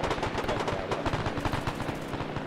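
Rapid automatic gunfire rattles nonstop in a World War II video game set at the Battle of Tarawa, dense bursts of shots crackling loudly over a rumbling battlefield.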